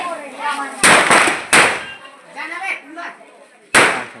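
Firecrackers burst at a Diwali celebration among friends. Three loud, sharp bangs are spread over a few seconds, with voices talking in between.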